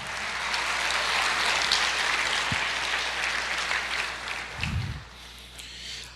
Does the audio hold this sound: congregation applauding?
yes